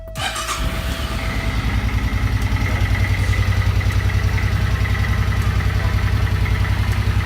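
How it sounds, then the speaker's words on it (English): A 2011 Suzuki C50T Boulevard motorcycle with stock exhaust idles steadily after a brief start-up, a low, even, throbbing rumble that holds close and loud with no talking. "just wanted to show what the bike sounded like with the stock exhaust first"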